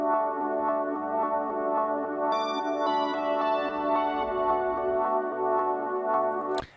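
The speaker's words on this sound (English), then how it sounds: "I actually used one of these melody loops, these synth melody loops from the bonus pack" Unedited synth melody loop from a Cymatics bonus pack, a steady sustained tonal phrase with stacked bright harmonics and a higher layer entering partway, playing alone at an even level before cutting off at the end.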